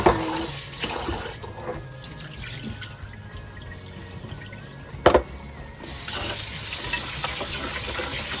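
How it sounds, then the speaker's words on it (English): Water splashes and swishes in a pot as rice is rinsed by hand for Filipino adobo preparation, with a running tap at start and end, a sharp knock near the middle, and quieter handling in between. "Wash my rice around 3 times."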